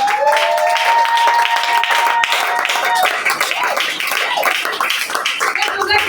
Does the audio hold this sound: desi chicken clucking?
no